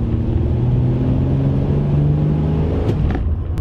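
A 1970 Dodge Challenger with an upgraded carburetor driving, a loud, steady low engine rumble with a rising whine, heard close and alone.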